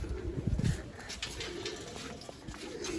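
Freshly brought-out pigeons sunning in a rooftop loft give off steady rolling coos, a louder burst near the start followed by softer overlapping cooing amid outdoor background noise.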